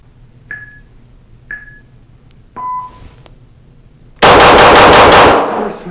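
Walther PDP Match steel frame pistol on a timed shooting course: three electronic timer beeps are followed by a rapid string of about six loud, close gunshots in quick succession.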